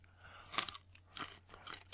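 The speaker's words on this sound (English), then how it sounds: "That's Andy actually eating a carrot. And I filled that out with a little bit of extra crunch from that Filmright pack." Carrot being bitten and chewed, close crunches in a quick irregular series with a sharp loud bite near the start and softer chomps after, alone without talk.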